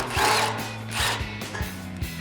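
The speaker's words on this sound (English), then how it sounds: "Next up, remove the other 12mm bolts." A 12mm socket ratchet works loose the skid plate bolts on a Toyota Tacoma, giving a few quick close clicking bursts over a steady low mechanical hum, brief and moderately loud, with no voices.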